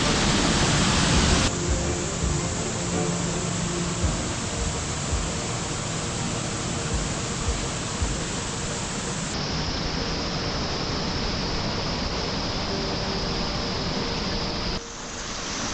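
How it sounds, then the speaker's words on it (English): Roaring rush of Cummins Falls heard from inside, behind the falling water: a dense, constant wash of loud noise that fills the whole clip with no voices. "How cool is this? I'm in the waterfall."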